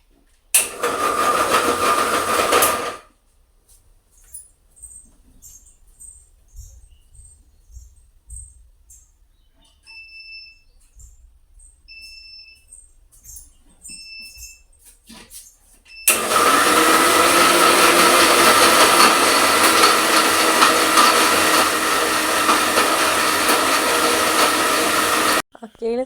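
A loud electric mixer grinder whirs briefly, cuts off into near silence with a few faint beeps amid low-voltage power trouble, then starts again and runs steadily at full volume.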